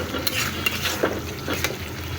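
A spoon stirs mustard beef masala in a pan, making scraping strokes and light metallic clinks over a soft sizzle, in short irregular bursts up close.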